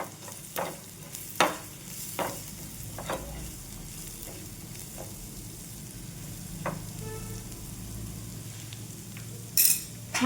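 A spoon stirs half a teaspoon of turmeric into masala frying in a pan for a chickpea-leaf vegetable dish, with scattered scraping clinks over a quiet, faint sizzle.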